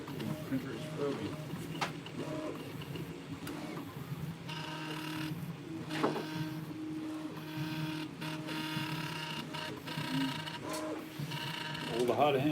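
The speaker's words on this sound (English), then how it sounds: "The printer is probing." A Prusa 3D printer probes its bed with a steady mechanical whir, broken by small taps and clicks at close range and a sharper burst near the end.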